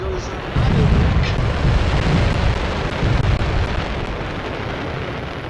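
Firework explosion in the video game Fireworks Mania: a deep rumbling blast swells and rolls on loudly for several seconds, then slowly tapers.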